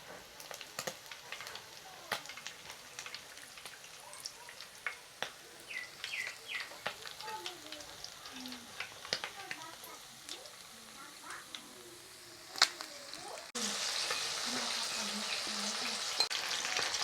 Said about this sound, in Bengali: আমি পরবর্তী মাছটা এইভাবে মিডিয়াম আঁচে আস্তে আস্তে ভেজে নিয়েছি